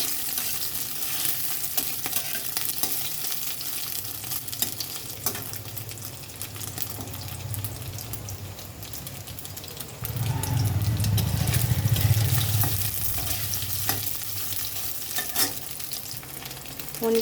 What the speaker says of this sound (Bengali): আমি পনিরটা একটু ভেজে নেব ভালো করে